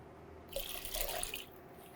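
Tap water runs into a cooking pot for a double batch of meatless loaf with roasted vegetables, a steady splashing fill that swells in the middle and then eases off, with no talking.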